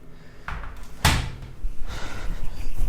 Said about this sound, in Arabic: سكر الباب بس.